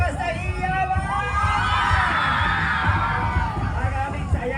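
Crowd at a grand civic parade for Pasig Day cheering and yelling loudly in a rising, sustained roar over a public-address announcer's voice.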